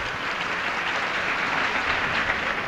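An audience at a Dallas Women's Foundation event applauds, a dense, even wash of clapping that stays loud and steady throughout with no voices on top.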